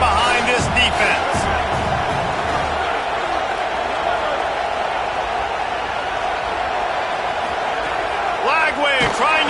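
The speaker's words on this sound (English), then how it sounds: "Big third down as the crowd gets behind this defense." Loud, sustained roar of a large college football stadium crowd on a third down, swelling steadily, with a few sharp thuds and bursts of noise.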